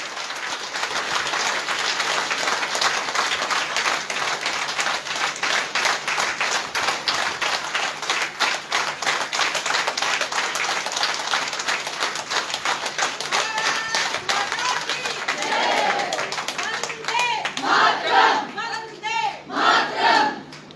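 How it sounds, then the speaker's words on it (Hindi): Loud sustained applause fills a hall at a BJP women's wing state working committee meeting in Rajasthan, dense clapping from a large crowd with cheers and shouts, thinning into scattered claps and voices toward the end. "इतनी जोरदार तालियों के साथ अभिनंदन करें कि मोदी जी तक उनकी आवाज चली जाए।"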